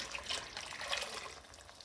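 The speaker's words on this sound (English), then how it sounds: "now I'm going to put a whole bottle of water in" A bottle of water is poured into simmering meatball sauce for spaghetti, giving a steady, close splashing gush that runs for about two seconds.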